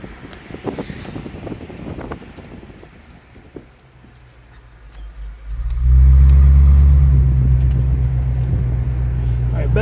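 A 1993 Mustang convertible pulls into traffic, with light rustling and road noise at first and then a loud, steady engine and wind roar once it gets up to speed. A faint voice can be heard early on.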